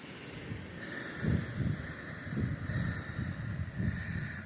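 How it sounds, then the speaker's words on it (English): Gusty wind in Chester Park buffeting the microphone in irregular rumbling puffs, with a faint steady hiss underneath and no voices. "and there's the wind."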